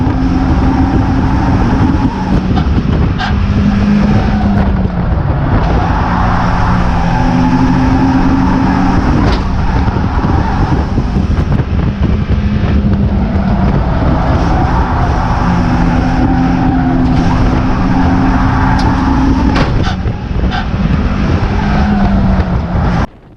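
Race car engines howl close and loud through a battle for position, a continuous roar with rising and falling revs as gears shift and cars jostle.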